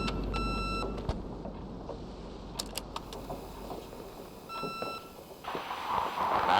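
Short electronic beep from a phone line in a horror game call, set in a quiet room with faint clicks and tones around it, followed by a rise of hissing background noise.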